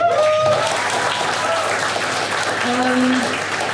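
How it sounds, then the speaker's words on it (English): Loud, sustained applause from a community night audience after a poetry reading, dense clapping with a few faint voices and cheers mixed in. "Shall we clap again"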